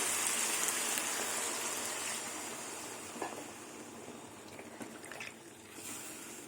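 Water poured into a simmering pan of pumpkin, potato and bori curry with drumsticks, a steady close splashing rush at the start that gradually thins into softer trickles and faint bubbling.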